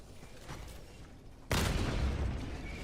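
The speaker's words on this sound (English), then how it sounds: "What was that explosion?" A sudden loud blast in the Mycopunk shooter game hits at the midpoint and leaves a sustained rumbling roar. It follows quieter ambient noise with faint distant pops.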